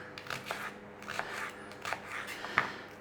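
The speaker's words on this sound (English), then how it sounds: "We have an onion. We're going to fine dice, well, fine-ish dice." A knife dicing an onion on a cutting board, giving a run of quiet, crisp crunching chops at an uneven rhythm, close by and faint.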